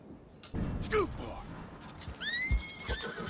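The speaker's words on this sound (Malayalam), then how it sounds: "ഇപ്പൊ കുതിര എങ്ങോട്ടോ ഓടിപ്പോയി" A horse in the video game Red Dead Redemption 2 whinnies twice, first briefly and then in a longer, rising neigh, with a few dull hoof thuds as it runs off nearby.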